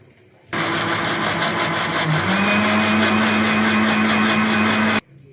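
An electric kitchen grinder whirs loudly as it blends fried onions with a cup of water for chicken korma, switching on abruptly and holding a strong, steady motor drone for about four and a half seconds before cutting off.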